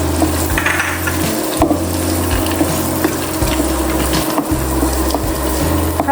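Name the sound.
almonds, cashews and raisins frying in a pan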